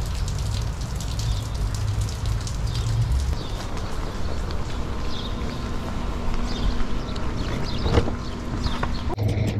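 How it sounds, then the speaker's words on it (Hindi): Heavy rain pours down steadily and loudly across the whole stretch, a dense close wash with a few brief clatters and faint chirps mixed in; no one speaks over it. "बहुत तेज बारिश हो रही है, भागना पड़ेगा।"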